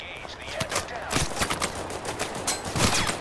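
Rapid bursts of gunfire in the war game Total Conflict: Resistance, dense cracks in quick clusters close by, with someone speaking intermittently over the shots.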